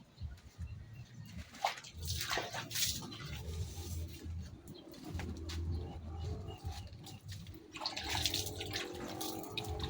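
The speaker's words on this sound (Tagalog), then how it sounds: "Tapos basahin lang natin ng tubig." Water is poured onto a little soil around a replanted plant, making irregular splashing and trickling pulses at fairly low volume. Brief louder gushes come through with some background noise, and no one speaks.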